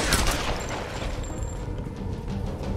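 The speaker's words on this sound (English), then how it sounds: "I like shooting you in the leg because it's funny, but hold still." Loud gunshots from the 2013 Tomb Raider video game burst out at the start, followed by a rolling spray of further fire and rumbling game noise.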